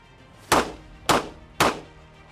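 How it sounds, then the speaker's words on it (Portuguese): Three sharp pistol shots ring out about half a second apart, each a loud crack with a short decaying tail, no voices between them. "Os disparos foram lá no alvo."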